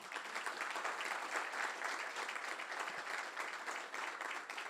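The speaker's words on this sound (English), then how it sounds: "So to Craig Livingston, let's give him a round of applause." Sustained audience applause at a conference where the New York governor gives remarks, a dense, steady clapping from a large crowd throughout, fairly loud and close, with no speech over it.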